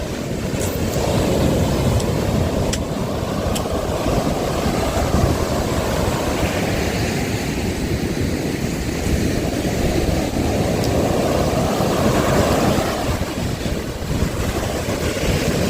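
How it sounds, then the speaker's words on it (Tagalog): Large ocean waves break and churn in a continuous, heavy roar mixed with strong wind buffeting the microphone, sustained and loud without speech. "Grabing alon."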